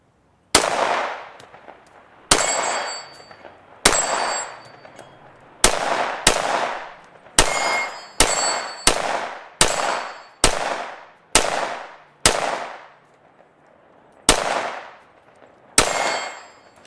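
Repeated gunshots striking steel plate rack targets, about a dozen sharp impacts each followed by a bright metallic ring that decays, spaced at irregular intervals, loud and close with no talking.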